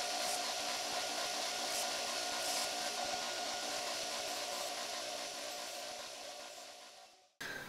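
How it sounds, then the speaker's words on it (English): A rotary tool grinds down a hex head screw, a steady high whine with a constant abrasive hiss that runs loud and close for about seven seconds, then cuts out abruptly before briefly starting again. "I have a hex head screw that's about the same size, and I think I can grind it down to fit that triangle"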